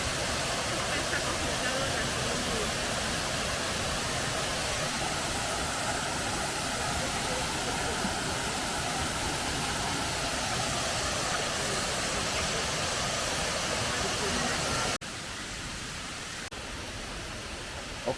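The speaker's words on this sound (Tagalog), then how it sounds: "nice waterfall" Waterfall at Erawan National Park, Thailand, a loud continuous roar of rushing water close by, steady throughout before dropping abruptly in level near the end.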